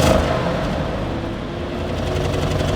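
Close, continuous engine roar from a 2020 Audi RS7 held against its rev limiter, a dense sustained revving with no talk over it.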